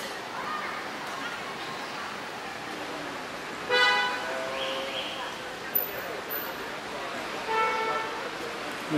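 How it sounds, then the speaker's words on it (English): Car horns toot in busy street traffic in Guilin, a few short honks standing out against a steady background of road noise and distant vehicles. "If it's not the cars blowing their horns, it's the bloody bikes going off."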